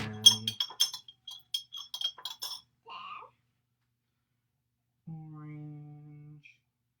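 A spoon clinks against a drinking glass while stirring food coloring into sugar water, a quick run of bright, close taps that stops abruptly, followed by a short murmur and a brief vocal sound.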